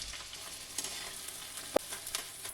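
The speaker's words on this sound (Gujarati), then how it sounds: "આ રીતે થોડો થોડો ગુંદર નાખતા જઈએ અને ગુંદરને તળી લેવાનો છે" Edible gum fries in hot oil in a kadai for a wheat-flour sukhdi sweet, giving a steady soft sizzle with a few sharp pops and crackles standing out.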